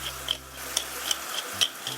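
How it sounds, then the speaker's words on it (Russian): Ground meat fries over fairly high heat in a pan, with seasoning added. A soft steady sizzle runs under scattered clicks and scrapes from the spatula stirring it. Nobody talks. "Обжариваю фарш на довольно большом огне."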